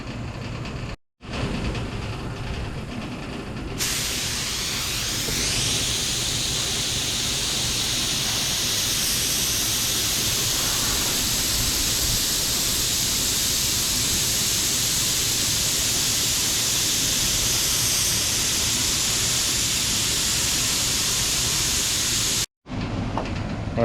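A paint spray gun hisses continuously and loudly as it lays a flash coat on the trunk of a 1969 Dodge Charger R/T, a close, steady rush of air and mist with brief breaks at the start and end.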